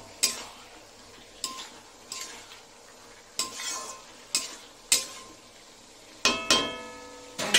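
Fish head with bottle gourd cooks down in a pan over a raised gas flame, giving a soft continuous sizzle broken by about eight sharp spoon scrapes and clinks against the pan.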